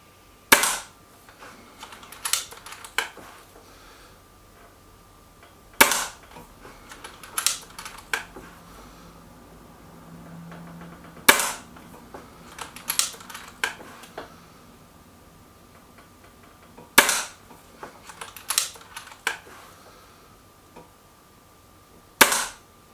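A Stoeger XM1 Scout air rifle fires pellets in sharp, isolated cracks spaced a few seconds apart, several shots in a row with faint mechanical clicks of loading between them and no talk.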